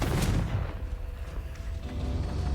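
In the video game Hogwarts Legacy, a Confringo spell explodes with a loud, deep, rumbling boom that fills the clip, no voices over it.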